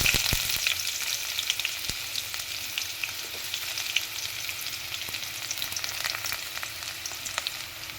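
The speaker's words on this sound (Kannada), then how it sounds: "ಈರುಳ್ಳಿ ಹಾಕಿ ಚೆನ್ನಾಗಿ ಫ್ರೈ ಮಾಡಿ" Mustard seeds, cumin, curry leaves and onions frying in hot oil for fried rice, giving a steady, dense crackling sizzle close up that runs unbroken from start to finish.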